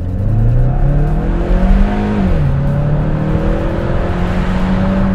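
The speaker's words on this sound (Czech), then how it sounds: "tady ten zvuk je díky tomu, že tam jsou vejfuky značky Rush, což jsou takový ty vejfuky, které právě dost jako vylepšejí zvuk každého Mustangu" A Ford Mustang fitted with Rush aftermarket exhausts accelerates along a straight road, its engine note climbing loudly through the revs, dipping briefly at a gear change, then pulling again in a strong, continuous drone.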